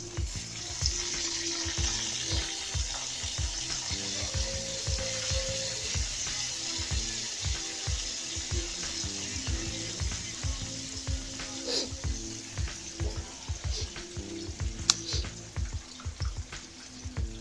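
Long beans stir-fry in hot oil in a pan, sizzling steadily throughout while a utensil scrapes and clacks in a regular rhythm close by.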